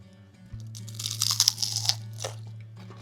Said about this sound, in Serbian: Morat ću piletinu da probam prstima kako biste samo čuli koliko je